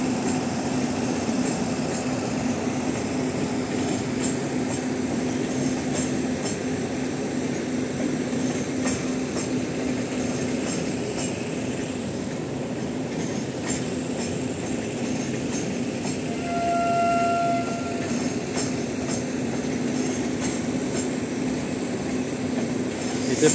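Passenger train pulling out of a station with no guard aboard, after waiting behind the signal post for the station master's signal; a steady rumbling roll with faint wheel squeal runs throughout, moderately loud and continuous.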